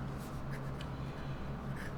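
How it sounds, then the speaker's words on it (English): A Sailor Professional Gear fountain pen with a fine 21k gold nib writing on paper, giving faint, soft scratches in a few short strokes against a quiet background. "Let's do the writing sample"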